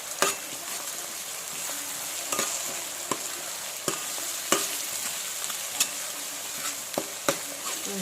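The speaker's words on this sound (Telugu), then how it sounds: "అల్లం వెల్లిపాయ పేస్ట్ నూనెలో వేగుతున్నప్పుడు మంచి స్మెల్ వస్తుందండి" Ginger garlic paste sizzles in hot oil with a constant bubbling hiss, punctuated by regular sharp spoon scrapes and taps as it is stirred, close up.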